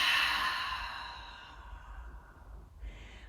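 A deep, breathy exhale during a core breathing exercise, loud at first and steadily fading over about two seconds, followed by quieter breath noise.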